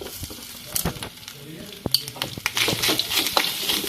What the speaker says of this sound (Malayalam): തേങ്ങ നന്നായിട്ട് വറുത്തെടുക്കണം